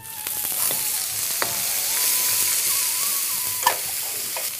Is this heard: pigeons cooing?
no